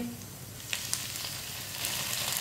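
Finely chopped tomato sizzling in hot oil in a pan for masala bhindi, a steady close frying crackle with a few sharper pops.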